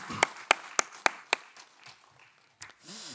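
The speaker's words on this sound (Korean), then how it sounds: "우리 하나님 아버지께 영광의 박수 올려드립니다" A short burst of applause at a Wednesday church worship service: five crisp, evenly spaced claps, fairly faint, then scattered soft noises fading out.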